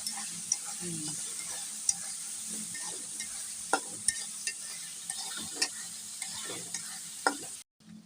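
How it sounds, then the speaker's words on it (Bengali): Peas and onions fry with a soft, steady sizzle while a spatula scrapes and taps the pan at irregular intervals; the sound cuts off abruptly near the end. "মটরশুঁটি আর পেঁয়াজের কালি ভাজা শেষ হলো"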